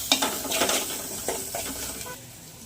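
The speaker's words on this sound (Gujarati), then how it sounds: "એક બાજુ દાળ વઘારે રહ્યા" Lentil dal being tempered in a hot pan in a home kitchen, with a brief, close sizzle and scraping stirs that fade toward the end.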